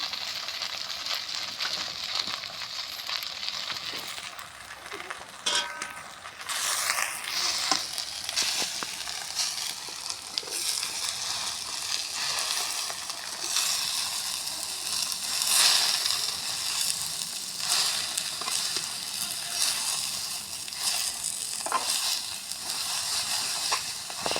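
Ghum shak greens fry with turmeric, cumin and salt in a pan, giving a continuous close sizzle and hiss, with scraping and stirring clatter breaking through now and then.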